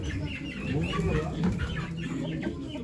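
Chickens and roosters cluck busily close by at a poultry auction in Ankara, with a murmur of voices in the background.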